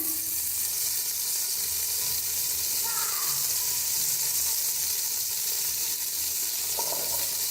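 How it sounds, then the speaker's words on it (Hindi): Onions browning in oil in a pot, heard as a steady, soft sizzle under a constant hiss that continues through the whole stretch, with an occasional faint stir or clink. "ये प्याज मैंने डाल दिए, इनको हल्का सा ब्राउन कर लेंगे।"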